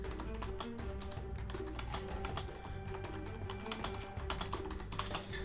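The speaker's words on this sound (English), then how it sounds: "I'm going to have to type that in." Rapid clicking keystrokes on a computer keyboard, close and steady with irregular bursts, while playing the card game Magic 2013.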